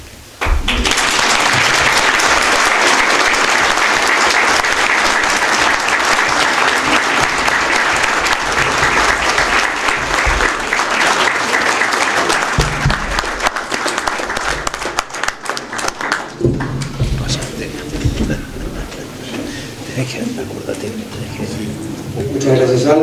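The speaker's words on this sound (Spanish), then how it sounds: "Muchas gracias, Álvaro, por el aporte, un merecido aplauso" Audience at a book presentation bursts into loud, sustained applause, dense clapping filling the room nearly continuously before thinning and tapering toward the end, then swelling briefly again.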